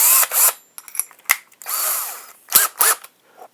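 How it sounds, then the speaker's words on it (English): A power drill fitted with a 1/4-inch bit whines loudly in several short bursts and one longer sustained run while boring a hole for a homemade camera mast mount, with brief pauses between pulls of the trigger. "get our 1/4-inch drill bit"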